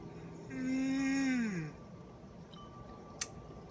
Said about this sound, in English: I was able to create a very nice yawn there